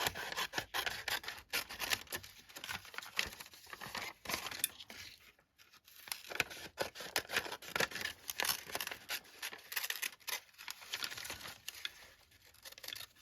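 Scissors snip and rasp through thin piano roll paper, a steady run of close crinkly cuts and rubbing with a short pause midway, no voices.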